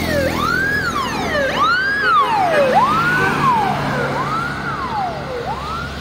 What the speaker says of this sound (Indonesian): ambulan ternyata